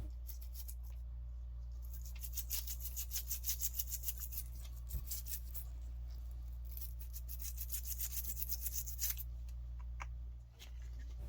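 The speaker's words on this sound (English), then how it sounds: "I'm scrubbing every part down I can. I'll try to get as clean as I can with just the alcohol." Arcade cabinet parts being scrubbed clean with alcohol, bursts of quick rhythmic bristly rubbing, close and fairly quiet, over a constant low electrical hum.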